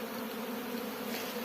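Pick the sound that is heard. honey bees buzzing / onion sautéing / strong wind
honey bees buzzing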